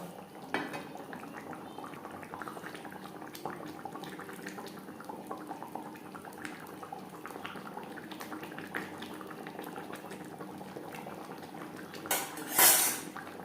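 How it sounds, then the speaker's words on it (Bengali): Sar puti fish curry simmers in a spicy gravy, with a steady low bubbling and the occasional clink of a utensil against the pot. A brief, sharper clatter comes near the end, and no one speaks. "গ্রেভির সাথে মাছ আরও তিন চার মিনিট রান্না করব"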